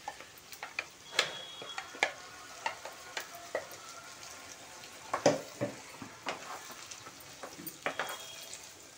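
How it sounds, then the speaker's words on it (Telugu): Prawns frying in oil in a pan with boiled tomato and onion added, a soft sizzle under intermittent clicks and scrapes of stirring, fairly quiet and close. "బాగా ఆయిల్లో వేగినాయి ప్రాన్స్ రొయ్యలు."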